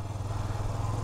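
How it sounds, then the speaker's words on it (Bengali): A Yamaha FZS-V2 motorcycle rides along a narrow rural trail, its engine giving a steady low drone with a faint rhythmic pulse, loud and close throughout with no talking. "এই চিকন ট্রেল ধরেই আর কি আমাদের বাইকটা চালাইতে হবে।"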